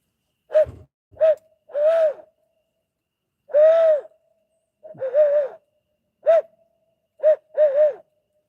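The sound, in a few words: owl hooting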